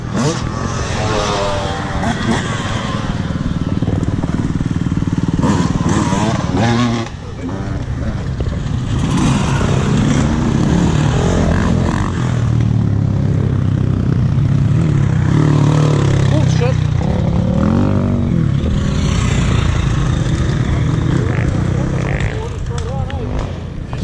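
Trail motorcycle engine revving and idling on a charity trail ride, loud and close with surges and dips, as people talk over it.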